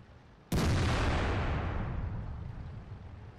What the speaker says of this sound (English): The artillery putting a massive hit into us